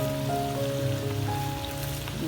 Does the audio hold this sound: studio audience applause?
no